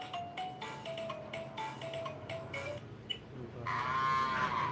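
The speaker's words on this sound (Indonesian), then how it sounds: "Sapi" A cow lets out a long drawn-out moo at moderate distance, followed by a second, louder, closer moo at the end.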